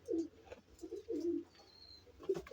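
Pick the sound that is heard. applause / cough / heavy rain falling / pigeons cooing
pigeons cooing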